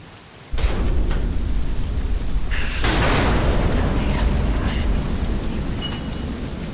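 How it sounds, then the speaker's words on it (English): A storm in the video game Deadlight brings heavy, constant rain on surfaces and a loud rolling thunderclap partway through. The rain roars steadily throughout. "Damn storm."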